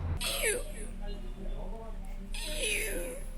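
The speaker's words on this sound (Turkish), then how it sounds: "Ama miyav videosu. miyav mı bu?" Two drawn-out cat meows, near and clear, separated by a short pause over a low background hum.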